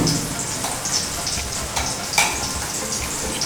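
Spring onion, salt, pepper and chaat masala mixed together for a cheese tomato omelette, making a continuous close rustling scrape with a few sharp utensil clicks and no talking.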